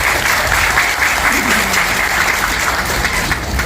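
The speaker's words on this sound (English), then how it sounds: "we will clap." Auditorium audience at a science centre clapping together in a dense, steady round of applause, close and loud throughout.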